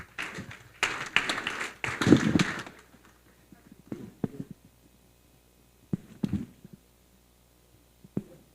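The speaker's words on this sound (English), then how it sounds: "Hand of applause." Audience at a national occupational health and safety conference in Klerksdorp gives a short burst of applause lasting about two seconds, followed by sparse isolated claps and taps in a quiet hall.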